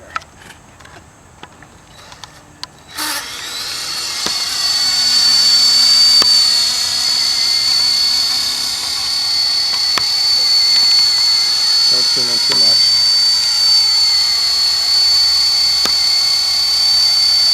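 A Blade SR 120 RC helicopter spools up after a few clicks, then holds a loud, steady high-pitched whine from its rotor and motor while hovering close by, with slight shifts in pitch and a voice briefly audible.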